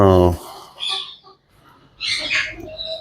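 Chickens cluck and squawk in short, close bursts, with a brief voice and a quiet pause between them.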